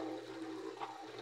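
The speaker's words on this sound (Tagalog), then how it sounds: "Ito yung malakas na patubig." Strong, steady rush of water pouring from a repaired village irrigation pipe in a rural sitio, a continuous broadband gushing roar with no voices over it.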